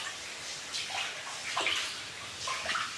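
Floodwater sloshes and splashes inside a house after sudden heavy rain, soft irregular watery movements rising in brief bursts over a quiet, steady wash.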